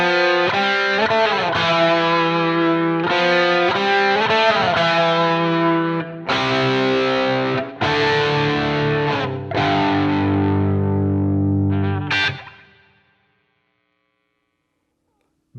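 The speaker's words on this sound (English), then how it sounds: "it sounds like two guitars being played" Harmonized electric guitar solo through an Axe-Fx pitch block, distorted lead lines with bends and a parallel harmony voice, played alone before ringing out to silence.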